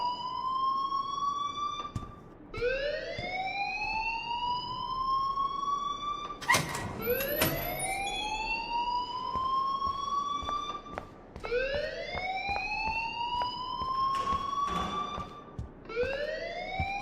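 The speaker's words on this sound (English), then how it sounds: "please turn off that alarm since that's your job." A school alarm rings in the video game Life is Strange, a rising wailing siren tone repeating in swooping sweeps, moderately loud, with brief clatters mixed in and no voices.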